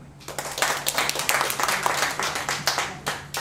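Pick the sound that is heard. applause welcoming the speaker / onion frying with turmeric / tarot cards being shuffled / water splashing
applause welcoming the speaker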